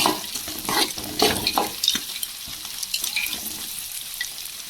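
Onions sautéing in a pan at home, a soft sizzle broken by several close scraping stirs of a spoon early on, then quieter frying; no voices.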